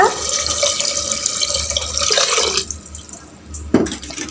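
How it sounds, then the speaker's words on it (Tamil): Water runs steadily into a cooking pot for a couple of seconds, then cuts off, followed by a faint clink and quieter trickling. "தண்ணி எடுத்து அதுக்கு ரெண்டு டம்ளர் தண்ணி சேர்த்திக்கோங்க"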